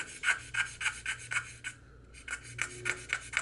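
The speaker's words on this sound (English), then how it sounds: "you can start taking your sandpaper. I just ripped off a little bit, and then you start sanding in the area you want" Small piece of sandpaper rubbed back and forth over a model locomotive flag decal, close and quiet rasping strokes in a steady rhythm with a brief pause midway.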